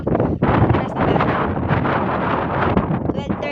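Strong wind roars against the microphone in heavy, continuous gusts, loud and close, during a pigeon release, with a voice partly buried beneath the rumble.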